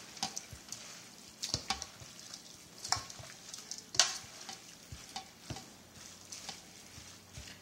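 A Lao bamboo shoot mixture is stirred by hand, giving irregular wet scrapes and soft clacks that repeat every half second or so, close by and fairly quiet.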